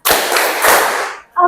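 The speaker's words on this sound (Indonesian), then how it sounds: "Kalau kau suka hati tepuk tangan." A group of children clap their hands in time to a children's action song, a dense, loud burst of many hands together lasting about a second, followed by a brief voice.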